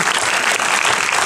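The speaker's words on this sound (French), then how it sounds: "Qui est là, on peut l'applaudir." Steady applause from a crowd at a film premiere, dense continuous clapping at an even level throughout with no pauses.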